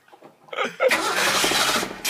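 A classic carbureted car engine cranks briefly and then fires up, settling into a loud, rough idle that stays close and steady to the end, with a faint chuckle just before it starts.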